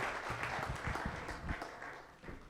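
An audience applauds to welcome speakers at a farming event, a faint, dense round of clapping from many hands that tapers off slightly toward the end.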